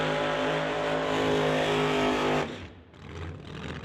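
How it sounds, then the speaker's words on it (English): A Root supercharged pro mod drag car engine fires up and runs with a loud, rich, buzzing idle for a couple of seconds, then cuts off abruptly, leaving quieter rumbling background noise. "at that Root supercharged combination for Steve as they get that thing fired up"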